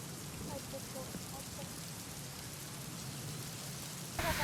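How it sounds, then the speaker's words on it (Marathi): Heavy monsoon rain pours steadily onto waterlogged farm fields in Yeola taluka villages, a dense continuous hiss with no break, growing slightly louder near the end. "येवला तालुक्यातील पारेगाव धामणगाव नगरसूल पिंपरी चिंचोडी अंगणगावमध्ये मुसळधार असा पाऊस झाला आहे"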